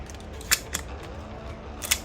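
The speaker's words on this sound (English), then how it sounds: "I'm gonna send the bolt home" A shotgun bolt slams forward into battery, a sharp metallic clack followed by a couple of smaller mechanical clicks, close and brief against a quiet room.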